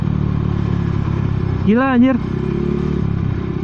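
A motorcycle engine runs steadily at close range with a constant low hum and drone, while someone speaks briefly over it.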